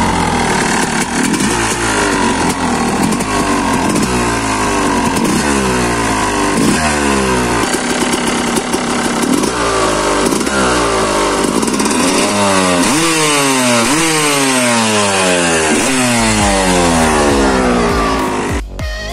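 Enduro motorcycle engine, freshly re-jetted carburetor with new spark plug and clean filter, revving loud and close in repeated rising and falling bursts, climbing to a high scream near the end with no talk.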